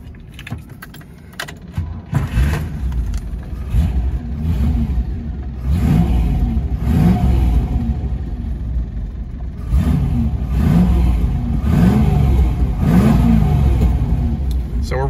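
A 1972 MGB fitted with a V8 and five-speed transmission cranks, catches and revs repeatedly, loud and close, with rising and falling engine surges and a slightly lumpy idle between blips.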